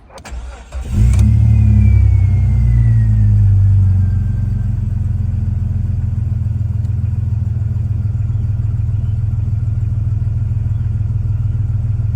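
Jeep Cherokee XJ four-door engine cranking briefly, catching with a loud revving burst, then settling into a steady, close idle that runs on alone.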